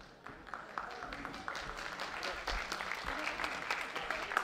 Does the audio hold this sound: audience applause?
yes